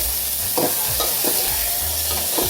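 Curry leaves sautéing in a pan for chicken soup, a steady loud sizzle of hot oil with a few scraping stirs of a spoon across the pan, close and continuous with no voices.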